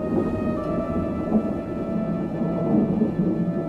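Steady low rumble of thunder in a Joe 90 episode, continuous and fairly loud for several seconds, with no talking.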